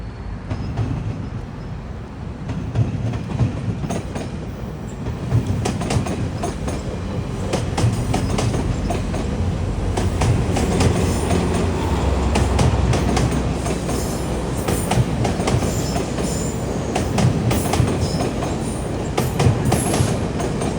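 GO Transit commuter train passing in Toronto, a loud, continuous rumble with rhythmic clickety-clack of wheels over rail joints and occasional sharp squeals, sustained close by throughout.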